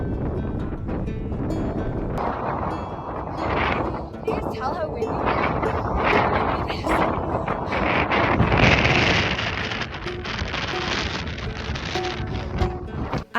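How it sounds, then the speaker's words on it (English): Strong gusting wind buffets the microphone on a bikepacking trip, a loud continuous roar with rising and falling surges throughout. "Can you just tell how windy it is?"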